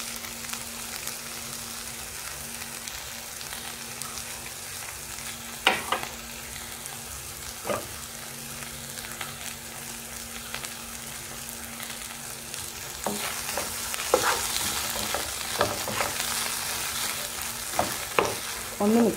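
Tomato sauce is stirred into a pan of frying chicken spaghetti, giving a continuous close sizzle broken by several sharp spoon scrapes and stirring knocks, with no voices.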